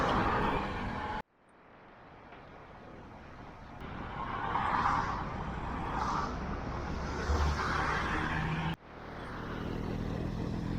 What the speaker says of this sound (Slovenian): Tukaj sem prisiljen iti na glavno soško cesto, kljub temu, da je ful prometna